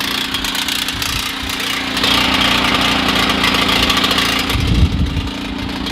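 A small generator engine running on propane with the choke set to center idles steadily at close range, a constant low hum and chug rising a little, with a brief rough burst near the end.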